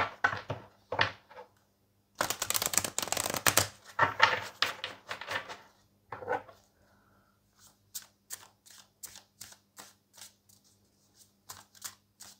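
Tarot cards handled during a reading: a burst of dense shuffling and rustling, then a series of crisp, separate clicks and taps as cards are laid down, close and with no voices.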